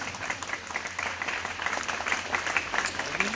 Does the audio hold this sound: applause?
yes